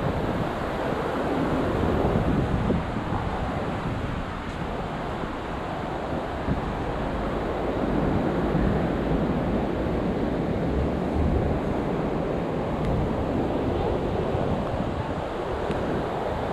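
Ocean surf at Balneário Camboriú beach washes in continuously, a broad steady roar of breaking waves with some wind noise and no talk.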